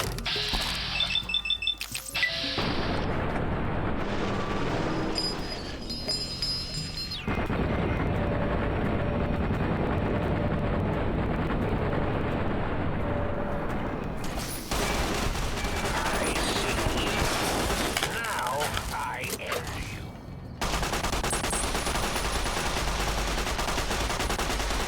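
Gunfire from a gun in Fallout: New Vegas, in sustained bursts of rapid, loud, close shots with mechanical clicking and ratcheting, broken by brief pauses, with little talk.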